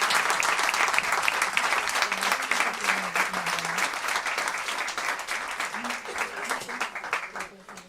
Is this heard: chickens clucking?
no